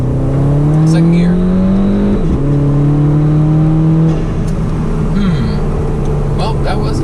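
A modified turbocharged car accelerates hard in second gear, a loud, rising engine drone that climbs steadily, dips at a gear change, then holds with faint turbo whistle, heard from inside the cabin.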